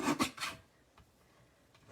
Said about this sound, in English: I'm just going to trim a little bit off the back, the bottom side here